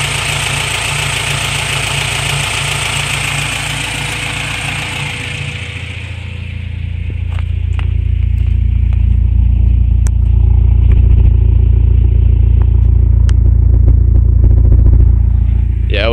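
A car engine running very rich, fitted with a homemade intake and a shaved valve cover, idles with a steady low rumble that swells louder partway through and then holds, close and continuous with no talk.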